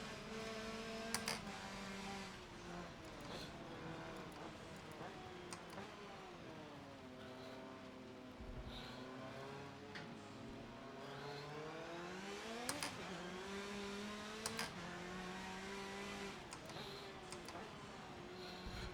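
A Dodge Viper engine in the racing game Forza Motorsport 7 hums steadily, its pitch rising and falling through gear changes and revs over a constant low drone, with faint ticking accents and no talk.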